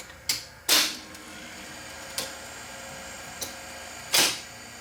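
Sony VP2000 U-matic tape machine stopping, a few sharp mechanical clunks and clicks spaced irregularly, including louder thunks of the transport mechanism over a quiet motor hum.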